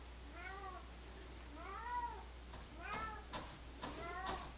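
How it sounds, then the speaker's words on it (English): A cat meows outside an office door, four drawn-out, plaintive cries at a moderate distance over a low steady hum, with faint knocking mixed in. "In the background, you hear Monet meowing because he is under some sort of mistaken impression that he should be allowed in my office"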